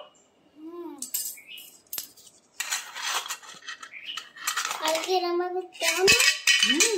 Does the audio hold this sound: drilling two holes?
no